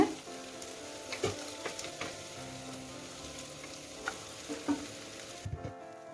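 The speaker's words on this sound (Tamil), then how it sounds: "இப்போ இதில் வெங்காயம் சேர்ப்போம். எல்லாத்தையும் ஒன்றாவே போட்டு வதக்கலாங்க." Onions sautéing in a pan for mushroom pepper kulambu make a steady, close sizzle broken by scattered clinks and scrapes of stirring.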